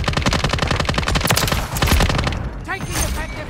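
Sustained automatic gunfire in a war video game: dense, rapid bursts of shots with booms mixed in, loud and continuous, and voices faintly audible beneath the fire.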